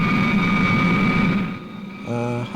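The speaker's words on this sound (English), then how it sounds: "I can hear Supercar's engines." Engine sound effect for the Supercar craft from the TV show, a loud roaring whine with a high sustained tone that dips, then returns as a short pulsing burst.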